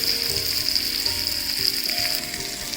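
Fish coated in masala frying on a flat tawa, a steady close sizzle with bright crackling and occasional light stirring scrapes, continuous throughout with no voices.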